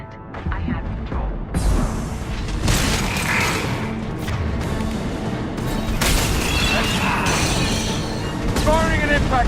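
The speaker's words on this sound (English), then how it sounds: "Firing an impact shot." Heavy impact shot from Guardian anti-ship batteries in Mass Effect 2, booming blasts and crashing impacts layered over continuous game noise and music, with a voice talking through it.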